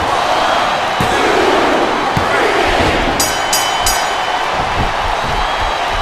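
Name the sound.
crowd noise in a video game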